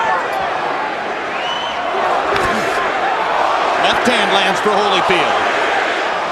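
A boxing arena crowd during the Evander Holyfield vs Larry Donald fight, a dense roar with rhythmic chanting rising underneath, loud and continuous beneath a ringside commentator's voice.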